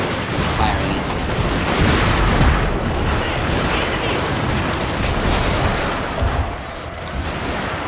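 Musket and artillery fire crackle densely and continuously through a large 2v2 battle in Shogun 2: Total War. Volleys overlap with booming rumbles and never let up.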